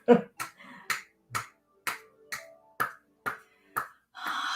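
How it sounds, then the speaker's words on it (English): Qigong cupping, a cupped hand patting the arm: about ten crisp, hollow pats in a steady rhythm, close and clear, with a faint voice behind them. "Nice cupping sound here."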